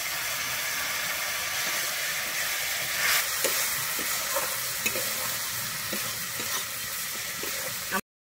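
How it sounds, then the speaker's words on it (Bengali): Water poured into a pan of sizzling fried spice masala for a yellow peas and mutton fat curry, a sustained hiss and sizzle with bursts of steam and faint stirring clicks, close and continuous. "আমি এরপরে এখানে বাটি ধুয়ে জল দিয়ে দিচ্ছি।"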